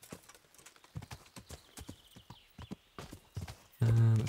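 Horse hooves clip-clop steadily on the ground in the medieval role-playing game Kingdom Come: Deliverance, a run of close, evenly paced strikes with a brief loud burst near the end.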